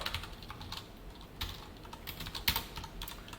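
Java code typed on a computer keyboard, close and fairly quiet, an uneven patter of key clicks in short bursts, with a couple of sharper keystrokes and no voices.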